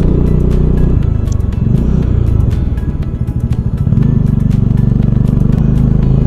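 A Bajaj Dominar 400 motorcycle on the move gives a loud, close, continuous engine rumble with steady throttle changes, heard with no talking.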